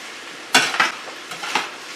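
Potatoes coated with oil, onion and pepper are stirred in a single pan, heard as a few distinct utensil scrapes and clinks against the pan, two sharper ones and then softer ones, over a faint background hiss.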